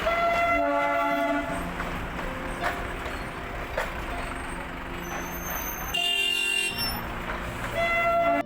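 Darjeeling toy train passing along a street, a loud close rumble of rail wheels and engine with several horn toots, nearby voices in the street.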